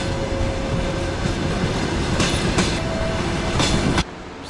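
The Adler–Vorkuta passenger train rolls through Adler railway station with a steady, loud rumble of wheels and cars, a few sharp clicks along the way, and the sound drops off abruptly near the end, with no talking.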